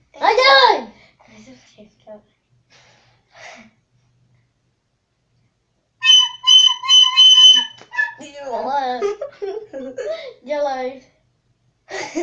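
A child tries whistling with fingers in the mouth, producing a sustained high tone amid breathy sounds, while children talk nearby.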